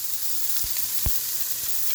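Food sizzles steadily in a Pampered Chef skillet, a constant hiss of frying with a few soft scraping taps of a utensil breaking it up.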